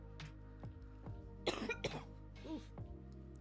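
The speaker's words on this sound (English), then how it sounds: "I'm sorry, you have to hear me cough." A person coughs several times in quick succession at close range, sharp dry bursts with a short throat-clearing sound, in a quiet room.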